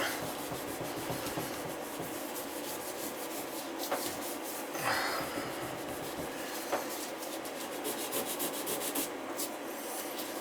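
Gentle scrubbing of grime off a bathtub spout pipe, a soft rhythmic rubbing and scratching with a few light clicks, close and fairly quiet, no talk.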